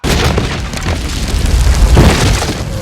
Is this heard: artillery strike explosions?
yes